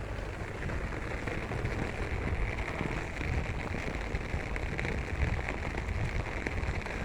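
Heavy rain pours steadily in a dense, even hiss, splattering on hard surfaces with no voices, caught outdoors on the way to a store.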